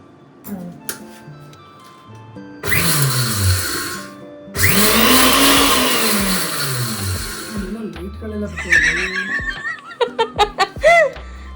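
A new masala grinding machine grinding coriander whirs loudly in two long bursts, rising and falling in pitch like a motor spinning up and down, close by, with people talking and laughing around it.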